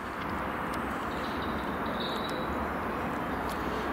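A Pullman train runs in the distance between Sarn and Tondu, a faint steady rumble under a broad outdoor hiss, with a few thin high tones drifting in.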